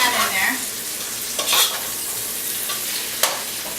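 Creole seasoning is stirred into a hot pan, a steady sizzle and fry under scraping utensil strokes, with a few sharper clinks and stirs standing out close up.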